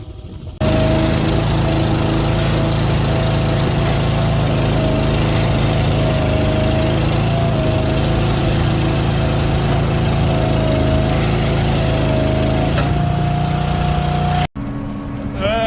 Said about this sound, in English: that is how a tube wrapper works.